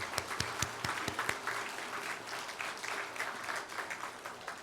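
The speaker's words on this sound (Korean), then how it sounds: "여러분 지금까지 수고하신 이분들을 위해서 우리 크게 박수 한번." A church congregation applauds, starting with a few sharp distinct claps that blend into a steady wash of clapping, moderately loud and fairly close.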